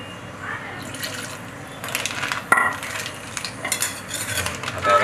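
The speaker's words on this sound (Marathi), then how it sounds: "याच्यामध्ये आता आपण थोडंसं हलकंसं पाणी ॲड करूया आणि त्याला छानपैकी उकळी" Water poured into a simmering crab curry in a pan, then stirred, with soft sizzling, bubbling and clinks of a spoon against the vessel, fairly close and steady throughout.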